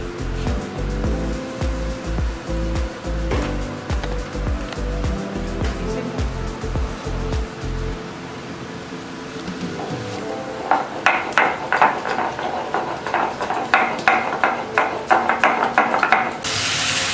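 Cinnamon and other spices ground by hand on a shil-nora stone slab with a stone roller for a crab curry, with steady, close, rhythmic heavy rubbing strokes followed by lighter, sharper scraping clicks.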